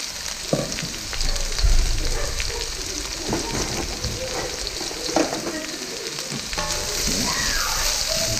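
Onions sautéing in hot oil in a pan, a loud, steady sizzle close by with occasional scraping stirs and small pops throughout.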